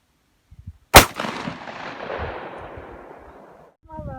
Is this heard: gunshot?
yes